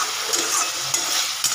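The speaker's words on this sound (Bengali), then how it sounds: "এবার ভালো করে যতক্ষণ না তেল ছাড়ছে ততক্ষণ আমাকে এটা কষাতে হবে।" Tomato, green chilli and coriander mixture stir-fried in oil, a steady sizzle with scraping stirs from a utensil and a few louder clinks near the end, close and continuous with no talking.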